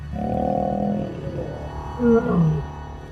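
A lion roars close and loud in the middle of a fight, with a sustained low bellow followed by a shorter, rougher growling burst.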